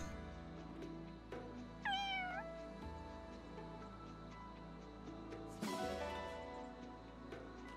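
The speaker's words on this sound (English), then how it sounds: "The cat!" A cat in the video game Fire Emblem Engage gives a short, rising meow, then another brief meow later, over steady background game music, with no talking.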